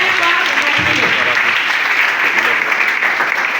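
A church congregation at a deliverance service keeps up loud, sustained applause and cheering, a dense continuous roar of clapping from a large crowd throughout, with voices mixed in.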